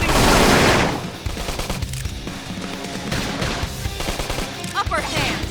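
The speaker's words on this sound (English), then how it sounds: "Now, topple him with some gunfire." A loud burst opens, then rapid gunshots rattle in quick volleys amid clattering game effects and impacts, close and busy, in Xenoblade Chronicles X: Definitive Edition.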